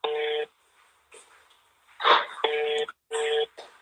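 A telephone ring tone sounds in repeated short bursts during an outgoing call, with faint background noise and a brief voice-like sound between rings.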